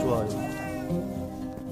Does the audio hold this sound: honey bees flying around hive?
no